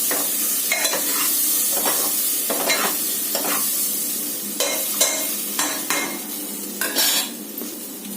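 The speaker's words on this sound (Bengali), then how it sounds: "আদা বাটা দিয়েও ছোলার ডালটা আমরা নাড়াচাড়া করে নেব।" Chana dal with ginger paste stirred in a pan, giving a loud, continuous close sizzle punctuated by frequent scraping strokes of a spoon against the pan.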